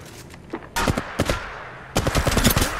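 Weapon fire in the mobile battle royale game Apex Legends Mobile: rapid automatic bursts in two clusters, loud and close, separated by a short lull with a few scattered shots.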